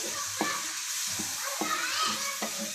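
Bhuna qorma is stirred in a pan over a constant loud sizzle, with rhythmic spoon scrapes landing about every half second to second.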